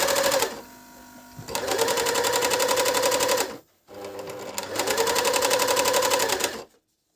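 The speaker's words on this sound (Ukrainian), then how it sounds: "І дивимося, як буде шити фліс." A DF-Dragonfly 858 coverstitch sewing machine stitching fleece, running in two fast, even bursts of rapid mechanical clatter separated by a short pause, close and loud.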